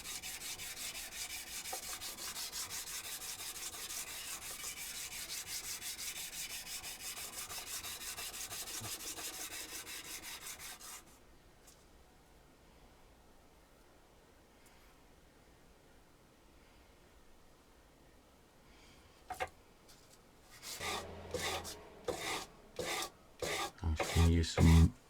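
A metal part for a watch hand press tool is sanded with 180-grit sandpaper, a steady close rasping rub for about ten seconds, then quiet, then a few short bursts of scraping strokes.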